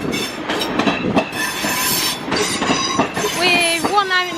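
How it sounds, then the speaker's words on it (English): A Class 323 electric multiple unit pulls into Crewe on a Manchester Piccadilly service, loud and close, with wheel squeal, clattering rail joints and a rising metallic whine. "here comes a Class 323, as it's working service from Manchester Piccadilly to Crewe."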